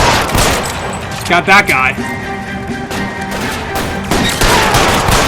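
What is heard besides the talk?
gunfire in the video game LA Noire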